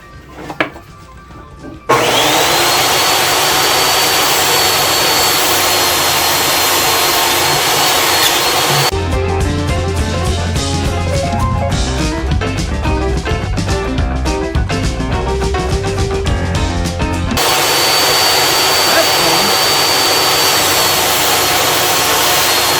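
A power saw cuts wooden slats for a small work caddy, a loud continuous whining rasp that runs nearly throughout after a brief quiet start, its tone shifting midway as the blade works through the wood.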